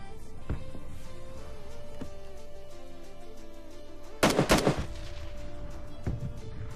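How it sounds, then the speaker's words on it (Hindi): Sporadic video game gunshots crack out over a steady background hum, with a loud cluster of rapid bursts in the middle and a few single shots around it. "ये सामने से बहुत ज्यादा मतलब गोली वगैरह चला रहे थे।"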